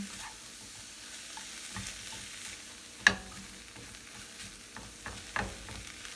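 Tuna cooking down in a pan, a soft low sizzle with occasional utensil clinks and scrapes, one sharper knock partway through.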